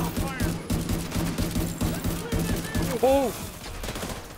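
Rapid automatic gunfire from The Division 2 rattles in quick repeated bursts, loud and close, with a player shouting briefly over the shooting.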